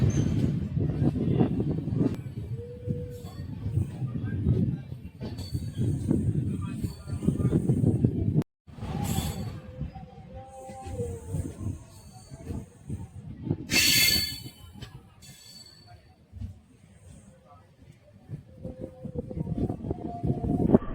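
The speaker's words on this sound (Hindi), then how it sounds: "फिलहाल ट्रेन स्टार्ट" Danapur to Jogbani Intercity Express LHB train running, a continuous low rumble and rattle of wheels on track with hissing, a brief drop, then squealing and clanking as the coach rolls on, heard from inside the carriage.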